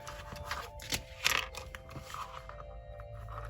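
Scissors cut off excess elastic cord while a GI Joe figure is being restrung: a few faint, quick snips and clicks close by in a quiet room, with no talk.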